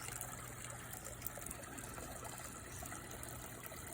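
A backyard fish pond trickles and splashes in a soft, continuous stream, faint and steady with no voices.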